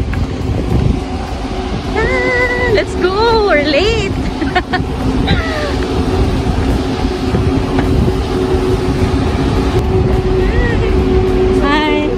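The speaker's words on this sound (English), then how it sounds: "Ito na yung boat to Banana Island" A boat engine on a boat to Banana Island, Doha, drones steadily and loudly throughout while several people talk and call out over it.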